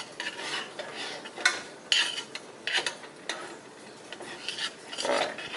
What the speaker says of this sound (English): let this simmer and mix together.